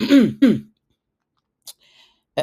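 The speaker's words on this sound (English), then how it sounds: "Pardon me while I clear my throat." Two harsh throat-clearing rasps in quick succession, close and fairly loud, followed by near silence with a couple of faint clicks.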